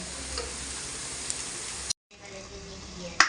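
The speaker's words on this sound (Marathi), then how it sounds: "असं कढईमध्ये तेल तापायला ठेवलेलं आहे त्याच्यामध्ये टाकला आहे लसूण" Garlic sizzling and frying in hot oil in a kadhai, a steady close crackle that cuts out briefly midway and resumes, with a faint clink near the end.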